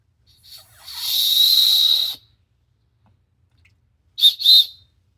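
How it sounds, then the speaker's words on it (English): Small survival whistle from an Altoids tin kit blown hard: a short chirp, then a sustained shrill blast of about a second, followed after a pause by two quick sharp bursts. "Doubles as a survival whistle to help signal for help if you are lost"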